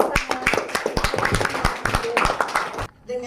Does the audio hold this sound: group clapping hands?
yes